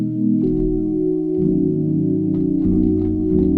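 Sustained synth pad from the Explore Dream VST plugin, slow dark R&B style, holding layered chords that shift a few times, steady and fairly loud with no talking.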